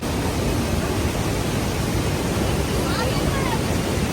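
A waterfall roars in a steady, dense rush of broadband noise, loud and unbroken from start to finish.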